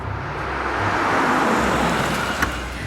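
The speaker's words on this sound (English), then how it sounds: "Zala and her dad pulled up to the shop in their old red pickup truck" An old red pickup truck pulls up outside a shop, a broad rumbling engine and road noise that swells and eases, with a brief knock near the end and no voices.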